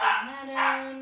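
Dogs bark twice in quick succession close by indoors, sharp yelping barks with a whine between them, while a person speaks briefly over them.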